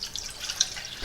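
Milk is poured into a kitchen pan for cinnamon hot chocolate, giving a brief, soft trickling splash with small liquid patters, faint and close.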